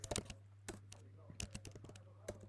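Computer keyboard keys tapped in short, sparse bursts with pauses between strokes, close and fairly quiet over a steady low electrical hum.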